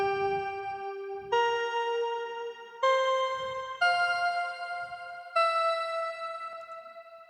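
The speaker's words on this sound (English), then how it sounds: "lead given to us by the elevator keys sounds like this." A Native Instruments Hypha synth lead with an Elevator Keys tone plays a slow sequence of five sustained, bright harmonic notes, each stepping to a new pitch, clean and prominent with no voices.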